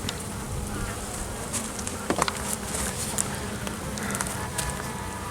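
Honeybees in a small colony kept in a nucleus hive, after suffering Asian hornet attacks, hum in a steady, dense buzz close by, with a few individual bees zipping nearer in brief louder passes.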